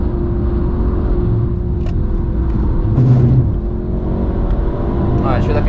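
A Mercedes C63 AMG engine drones loud and steady from inside the car on the Nürburgring, a constant low rumble with a brief swell, while people talk over it.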